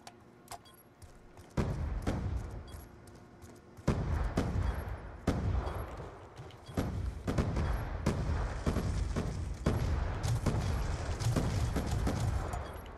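Rapid gunfire from the video game Black Ops 2 in gun game mode, with loud sharp shots cracking out in irregular bursts and clusters that grow denser after a quieter opening.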